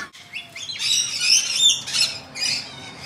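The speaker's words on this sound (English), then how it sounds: "sweet nectar juice that makes the birds go bananas" Lorikeets chirp and squawk loudly and close by, with overlapping shrill calls in bursts over about three seconds.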